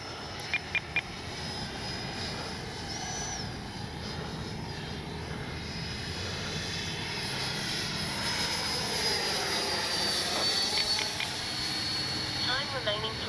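An FMS 80mm RC jet flies at about half throttle, a steady continuous roar that swells slightly toward the end, with a person talking over it at times.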